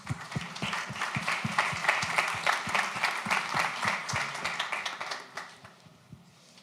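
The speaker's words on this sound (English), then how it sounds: "Give her a round of applause." A conference audience applauds a speaker coming to the stage, a lively patter of many hands from a modest crowd that swells, holds, then fades to quiet after about six seconds.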